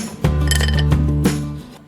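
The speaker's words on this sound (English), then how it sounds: "Ice cubes," Ice cubes clink into a glass while a cherry vodka smash cocktail with muddled cherries is being built, giving a few sharp, close clinks over a steady low background hum.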